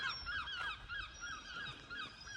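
Seagulls call near a house, a busy overlapping chorus of nasal, honking cries repeating steadily, from birds at middle distance, with no voices in between.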